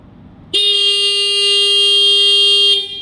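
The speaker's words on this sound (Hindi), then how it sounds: "हाँ हॉर्न बजाएं" A car horn blares in one loud, steady, unbroken honk lasting over two seconds, starting abruptly after a quiet moment and cutting off sharply.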